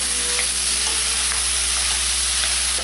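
Aubergine stir-fries in a hot pan with a loud, dense, continuous sizzle and occasional faint scrapes of stirring, close up with no talking.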